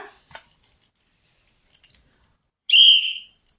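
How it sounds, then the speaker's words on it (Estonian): A single loud, shrill referee whistle blast lasting about half a second, preceded by faint clicks and small rustling sounds. "Meeletult kõva heliga kohtuniku vile."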